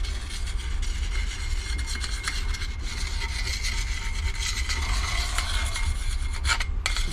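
Abrasive scraping on the surface of a 2017 Jeep Renegade Trailhawk front brake rotor, a continuous loud close rasping rub with uneven strokes and no pauses.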